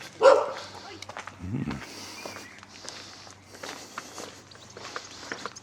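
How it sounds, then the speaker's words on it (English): Dogs bark near the old vicarage in the village of Little Driffield, East Yorkshire: one loud, close bark at the start, followed by footsteps and faint voices. "Just got backed up by some dogs."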